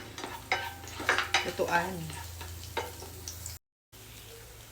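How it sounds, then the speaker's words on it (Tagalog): Garlic sautés in hot oil in a cooking pan, a faint crackling sizzle broken by scraping utensil strokes and clinks, with someone speaking briefly over the cooking. "lagyan natin ng mantika. Ilagay na natin yung bawang."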